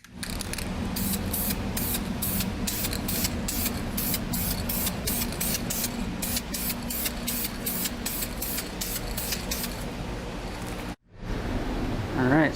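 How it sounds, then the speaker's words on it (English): Primer hisses from an aerosol can in bursts inside a Datsun 280Z engine bay, a close, loud spray repeated in rapid short pulses for about ten seconds before a brief pause and another burst. "primer in a can, just so I can get into like some hard to get to spots like under there"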